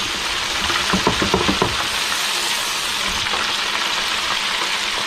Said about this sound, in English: We are frying some bowfin.